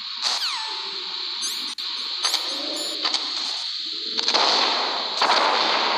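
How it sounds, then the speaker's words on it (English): In the Metal Gear Solid video game, a remote-controlled missile is launched, with electronic chirps and descending tones over a constant game drone, then a louder whooshing rush toward the end, with no talking. "Use a remote-controlled missile."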